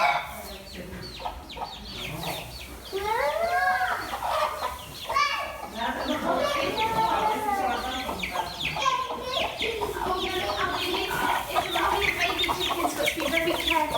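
Hens cluck and squawk repeatedly, close and fairly loud, a busy overlapping chatter of several birds lasting throughout.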